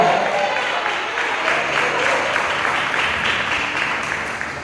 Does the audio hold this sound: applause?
yes